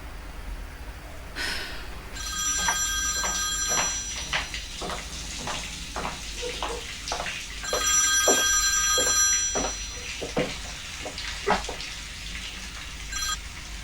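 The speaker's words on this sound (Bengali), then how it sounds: "আর এই সদরুদ্দিন তার ফোনটা পর্যন্ত ধরছে ন" A telephone rings in an indoor drama scene, its bright electronic bell repeating in two long bursts of rapid pulses over faint background noise.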